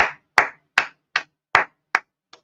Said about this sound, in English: Listen, a round of applause for you.